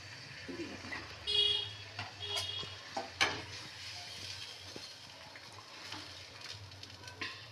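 Fish cooking in a pan of spiced liquid for a Bengali fish curry, a quiet sizzle and bubbling with a few clinks and scrapes of a utensil, close and fairly soft, no talking.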